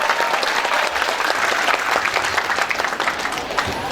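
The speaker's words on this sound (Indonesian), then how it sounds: "Tepuk tangan dulu yang meriah." Loud, continuous applause from a crowd of high school students at a school assembly in Jakarta, a dense unbroken patter of many hands lasting throughout.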